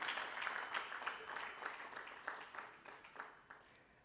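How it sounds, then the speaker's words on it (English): Scattered clapping from an audience at an internet governance forum in Rwanda, welcoming a panelist; individual claps stand out in an uneven rhythm, faint and thinning toward the end. "A round of applause."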